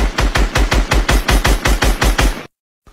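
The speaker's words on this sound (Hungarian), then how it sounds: "Abba hagyták a lövést." Rapid automatic gunfire in a video game: about a dozen loud, evenly spaced shots rattle off over two and a half seconds, then cut to sudden silence.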